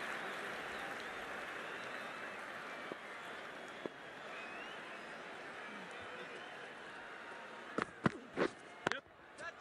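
A stadium crowd in the Cricket 19 video game, at a Jaffna Kings versus Galle Gladiators final, applauds and roars in a steady wash, with a few sharp, loud bursts near the end.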